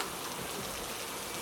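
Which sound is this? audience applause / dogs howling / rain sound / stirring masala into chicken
rain sound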